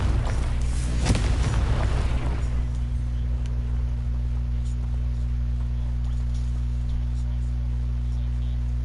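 A Confringo fire spell from Hogwarts Legacy bursts in a loud, rumbling explosion at the start, then fades into a quiet, steady in-game background hum.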